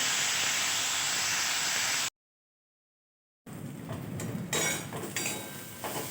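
Chopped onions and tomatoes frying in a pan give a loud, even hiss for about two seconds. After a short silence comes a quieter sizzle with clinks and scrapes of a utensil against the pan, and no one speaks.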